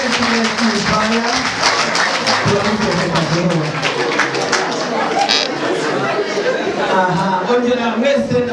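Wedding guests applaud at a celebration, with dense, steady clapping from a large crowd filling the room under constant loud chatter and talking voices.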